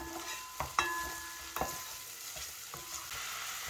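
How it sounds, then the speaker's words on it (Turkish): Minced meat fries in olive oil in a pan, a steady close sizzle broken by a few sharp scrapes and knocks of a utensil stirring it, with no talking. "Kıymamızın üzerine biraz zeytinyağı döküyorum. Yarım çay bardağından biraz az. Şöyle biraz daha kavuralım."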